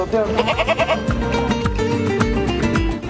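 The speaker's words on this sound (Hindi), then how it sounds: "यूं बकरा मंडी में बकरे तो बेशुमार आए हैं" Goats bleat at a crowded goat market, several overlapping wavering cries, some near and some farther off, over a dense ongoing background of livestock noise.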